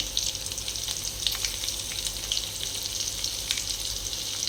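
Curry leaves and turmeric sizzle in hot oil for a tomato egg curry, a dense, steady crackling hiss that carries on evenly and close by with no talking.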